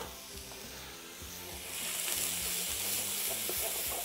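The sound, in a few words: onions sizzling in a hot pan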